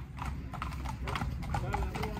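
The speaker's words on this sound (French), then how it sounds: "Et regardez, la police à cheval." Mounted police horses passing on a street in Argentina, hooves clip-clopping in an uneven rhythm at moderate distance over a steady low rumble, with people talking nearby.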